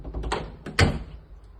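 A Turkish armored steel door with an anti-theft alarm is worked by hand, giving a few mechanical clicks and a solid thunk of the heavy door. The sounds are close and loud, with no talk over them.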